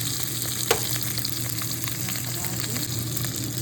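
Minced meat for stuffed cabbage rolls sizzles loudly in a pot as it is stirred, a dense continuous frying hiss with a sharp scrape near the start and faint utensil knocks.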